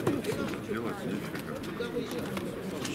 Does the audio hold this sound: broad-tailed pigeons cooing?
yes